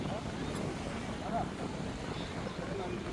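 Wind on a seashore blows in a steady, low rumbling buffet, close and fairly faint, with faint voices murmuring in the background.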